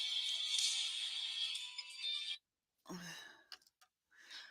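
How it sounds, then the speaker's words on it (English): A phone ringtone plays as a bright, sustained electronic tone for a couple of seconds, then cuts off into near silence followed by brief soft sounds and a faint trailing tone. "my phone is ringing"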